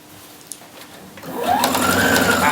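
A sewing machine starts stitching a shirt sleeve at a regular stitch length. It begins with a few faint clicks, then after about a second runs into a steady, close mechanical whir that rises in pitch.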